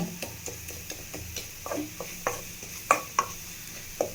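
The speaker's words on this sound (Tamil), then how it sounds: "நம்ம போட்ட மிளகாத்தூள், தனியாத்தூள், கரம் மசாலா எல்லாம் நல்லா வாசனை வர அளவுக்கு நல்லா ஃப்ரை பண்ணிக்கோங்க" Green peas and chili, coriander and garam masala powders fry in a pan for veg cutlets, with soft sizzling under repeated spoon taps and scrapes against the pan at an uneven rhythm, fairly quiet and close.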